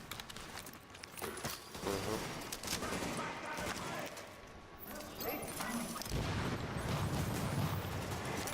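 Pistol gunfire in The Division video game: dense, loud bursts of shots and impacts run throughout, mixed with game effects and a speaking voice.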